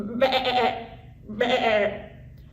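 Two drawn-out sheep bleats, each lasting about half a second to a second, sounding close and clear with a short pause between them; a person talks around them.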